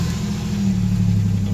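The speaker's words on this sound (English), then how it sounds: "Starting the car." A car engine, with an EGR fault, runs at a steady low idle, then swells slightly as it revs up and settles into a deep, even rumble close by, with no voices over it.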